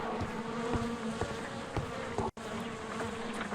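Bees buzz steadily throughout in the Sherlock Holmes video game, a close, continuous insect drone with a brief dropout near the end and no talking.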